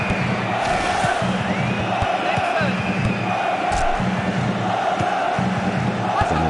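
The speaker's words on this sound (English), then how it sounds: "the sound of the crowd very angry indeed here" Stadium crowd in the PC football game FIFA World Cup 2002 during a Germany versus Brazil match, a constant roaring mass of voices with rising jeers and bellows, loud and unbroken from start to end.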